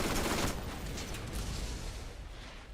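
Turret gunfire in the video game Borderlands, a steady dense rattle of shots that is loudest in the opening half second and then continues as a fainter, continuous barrage.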